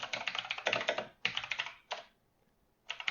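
Fingers type on a computer keyboard in quick bursts of clicking keystrokes, close and clear, with a short pause before the tapping resumes.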